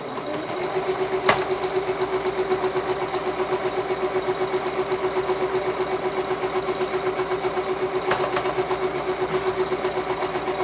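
Sewing machine stitching a quilt, running as a steady fast mechanical whir with a constant tone and rapid needle rhythm, close and continuous, with a couple of faint clicks along the way.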